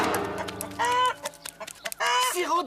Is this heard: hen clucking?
yes